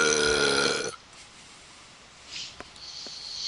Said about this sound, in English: Me burping is a seal of approval.